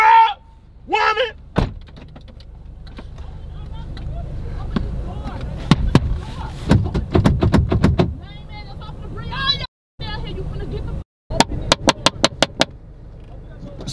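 Someone beating on a car during a heated argument inside the vehicle, with sharp repeated thumps and bangs on the body in irregular bursts, loud and close, mixed with shouting voices.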